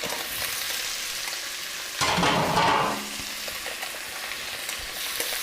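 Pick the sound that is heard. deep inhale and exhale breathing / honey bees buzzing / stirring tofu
stirring tofu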